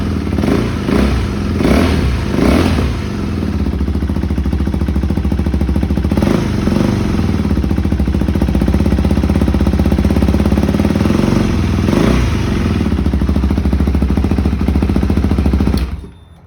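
A 2022 KTM RC 390 motorcycle with a modified ECU revs with a deep, throaty exhaust: several sharp throttle blips early on, then a loud, sustained engine rumble with a few more revs before it cuts off at the end.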